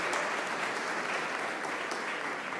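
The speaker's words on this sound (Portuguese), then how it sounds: "Podemos aplaudir o Senhor, meus irmãos." A church congregation applauds during a worship service, a dense, steady wash of many hands clapping continuously and fairly close, with no voices rising above it.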